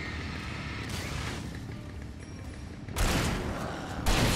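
In the Alan Wake Remastered video game, two sharp shotgun blasts boom out amid a busy game soundscape, the first a loud broadband burst near the three-second mark and another soon after.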